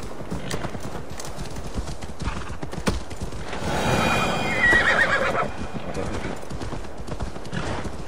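In Assassin's Creed Valhalla, a horse clip-clops in a steady rhythm of hoofbeats, then lets out a loud, drawn-out neigh in the middle before the hoofbeats carry on.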